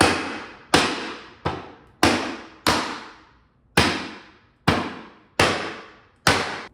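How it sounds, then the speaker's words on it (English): Sharp, loud hammer blows strike wooden bookshelf panels one at a time, nine hits in an uneven rhythm, each ringing briefly before fading. "give everything a good hammering"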